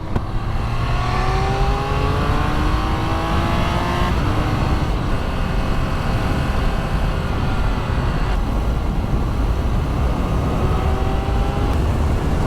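A Triumph Speed Triple 1200 RR three-cylinder motorcycle engine revs hard in road mode and climbs through the gears with a quick shifter, rising tones stepping up with each shift, close and loud over constant wind noise.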